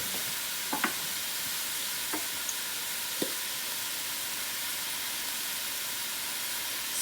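Butternut squash soup ingredients are stirred in a pot, a steady soft hiss with a few faint scrapes and knocks of the spoon against the pot, with no talk.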